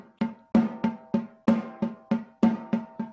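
A snare-like drum plays repeated groups of three quick strokes, the first of each group hit noticeably harder, in a steady, clear rhythm.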